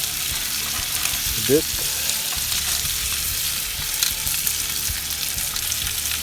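Duck breasts sizzle and render fat in a hot pan with a steady, crackling fry, and someone briefly speaks over it.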